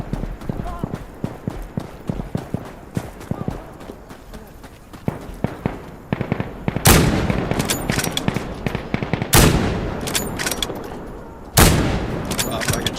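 Rapid gunfire in the video game Insurgency, with sharp shots cracking in quick succession and several loud, heavy bursts later on, mixed with footsteps and a player talking throughout.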